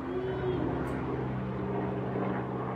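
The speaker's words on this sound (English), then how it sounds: "I picked the perfect time as the helicopter's flying by" A helicopter passes overhead outdoors, its rotor and engine making a steady low droning hum that holds evenly for a few seconds at moderate distance, fairly faint.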